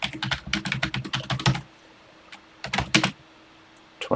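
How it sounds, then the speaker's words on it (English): Someone types on a TI-99/4A home computer keyboard, a rapid run of close, crisp key clicks, then a pause and a second short burst of keystrokes. "And let's start typing."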